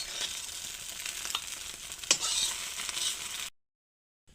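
Eggs fry in a pan with a little salt, giving a close, steady sizzle with a few sharper crackles that stops abruptly into silence near the end.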